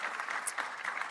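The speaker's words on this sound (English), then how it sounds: "I think that deserves a hand clap" A conference audience gives a short burst of light, scattered hand clapping, faint and fairly distant, lasting about a second.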